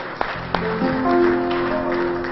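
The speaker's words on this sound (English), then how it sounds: "Give God a hand clap of praise this morning" A Pentecostal church congregation claps hands in praise during a Sunday morning service, with a couple of sharp claps that spread into sustained clapping mixed with organ or keyboard chords.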